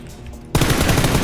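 Rapid automatic gunfire from the video game PUBG bursts in suddenly after a quieter moment, a loud, dense stream of rhythmic shots continuing to the end.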